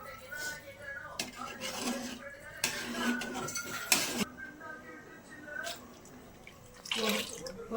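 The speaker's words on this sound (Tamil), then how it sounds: "தண்ணி ஊத்துறேங்கப்பா" Water splashes and pours in several bursts into a pot for chicken biryani, with metallic clinks of cookware and a voice talking in between.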